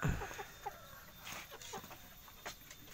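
Gray Kate bantam chickens cluck softly in a coop, with a string of short, faint clucks spread across the moment after a brief louder knock at the start.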